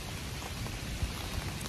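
Steady rain patters on a muddy pop-up tree umbrella outdoors, a dense, even hiss of drops with a few slightly louder taps, no voices.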